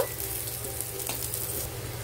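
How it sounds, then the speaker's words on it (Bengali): Spices frying in oil in a wok until they turn reddish, a steady close sizzle with light stirring scrapes throughout, no voices. "দেখুন এইরকমভাবে লাল লাল করে ভেজে নেব"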